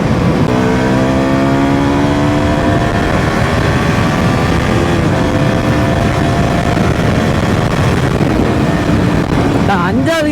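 A BS3 motorcycle engine revs and climbs in pitch, loud and close, holding a steady drone with rising harmonic whine throughout.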